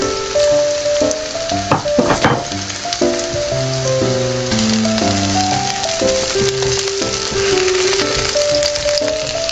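Garlic fries and crackles in a pan for a Filipino seabass sinigang, a steady sizzle running beneath loud melodic music.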